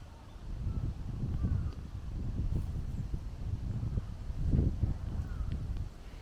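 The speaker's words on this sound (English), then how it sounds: "It's a little windy." Gusty wind blows across a lake in a Japanese park in Hirakata, Osaka, a steady low rumble with swelling buffets against the microphone, continuous through the whole stretch.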